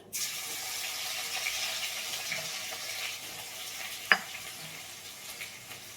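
Ginger garlic paste, pounded in a mortar and pestle, hits a hot pan and sizzles with a steady, moderate frying hiss, marked by one short sharp clink partway through.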